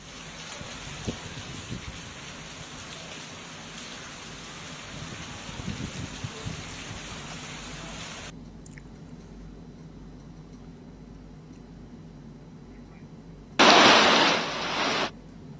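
Heavy, continuous rain in Lucknow, a dense steady hiss for about eight seconds that then drops away to near quiet, followed by a short loud noisy burst near the end.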